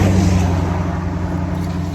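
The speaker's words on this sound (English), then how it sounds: "Rural traffic." A vehicle on a quiet rural back road passes with a steady, loud, close rumble of engine and tires that eases slightly toward the end.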